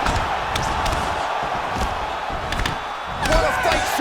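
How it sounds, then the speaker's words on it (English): Crowd cheers and roars at a mixed martial arts bout in EA Sports UFC 4, a steady loud arena din of many voices that swells near the end. "So the crowd voicing its appreciation after."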